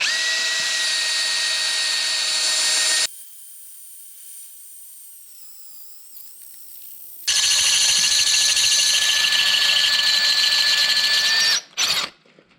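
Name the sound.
drilling with Matco Hyper Step drill bit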